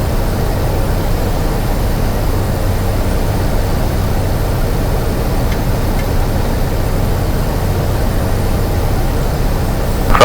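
Cessna C208 Caravan turboprop on landing approach at Narsarsuaq, Greenland: a loud, steady engine drone heard close and continuous throughout, with no talking.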